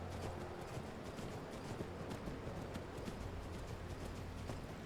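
A horse's hooves clop in Skyrim, a quiet, loosely rhythmic patter of steps over low background ambience, with no speech.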